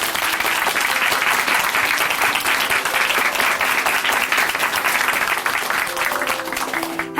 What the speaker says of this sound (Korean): 우리 자매님께 다시 한번 응원의 박수 보내드릴게요